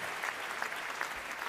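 A concert audience applauds steadily, a dense wash of clapping heard briefly with no pauses.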